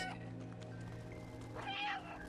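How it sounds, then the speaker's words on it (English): A cat meows in the video game Stray, one short call near the end heard over a steady low game music and ambient hum, with no talking. "Can I meow at the camera?"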